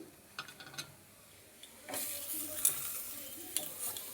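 Crushed Maggi noodles fried with chopped capsicum in a pan, quiet scattered stirring clicks at first, then a faint steady sizzle with occasional scrapes of the spoon.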